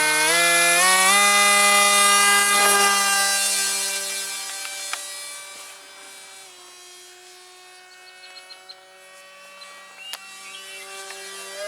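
A small 1/20 scale radio-controlled F-117 Stealth Fighter propjet flies on a little battery, its electric motor giving a loud continuous high whine that swells up close, then eases slightly as it passes farther off.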